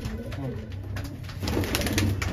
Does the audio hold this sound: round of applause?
no